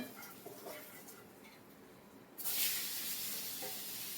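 Onion, turmeric and mustard seeds fry in hot oil in a home kitchen as chili powder is added. A faint steady sizzle with light stirring clicks bursts into a louder, brighter hiss partway through and holds there.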